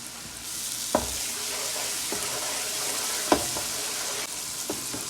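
Ground coriander and cumin powders fry and hiss in a pan over high flame, a steady close sizzle punctuated by a few sharp knocks and scrapes of a stirring spoon.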